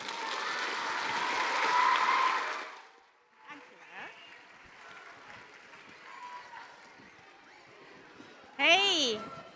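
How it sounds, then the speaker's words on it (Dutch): Loud applause from a crowd of children at a children's university lecture fills the opening seconds for a professor, then breaks off abruptly, leaving scattered voices and a sharp squeal near the end. "mag ik een heel hard applaus voor professor Yvonne Bremer"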